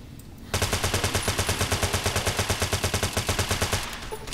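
Automatic gunfire with armor-piercing ammunition in Fallout: New Vegas, a rapid, even burst of about three seconds, loud and close, beginning abruptly and ending with a short fading tail.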